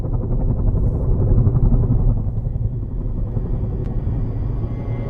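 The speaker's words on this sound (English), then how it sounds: "Helicopters." Helicopters in a documentary trailer about a military IED threat call, a heavy, continuous low rotor rumble with a steady throbbing beat, loud and close, running alone without speech.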